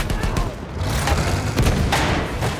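Heavy booms and thuds of tanks firing in Battlefield 1 come in repeated bursts over dense battle noise, while someone talks throughout.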